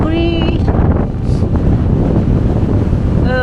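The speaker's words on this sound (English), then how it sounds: "Look at that wind in front of me." Strong wind roaring across a cold ski resort slope, a steady loud broadband rush buffeting the microphone throughout, with brief faint tonal sounds near the start and end.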